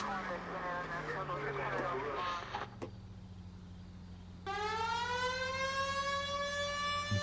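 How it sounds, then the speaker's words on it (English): A police car siren in the LA Noire video game winds up and holds a steady rising wail, loud and continuous, after a stretch of engine drone and a brief dip. "Let's turn those sirens on so that nobody crashes into us"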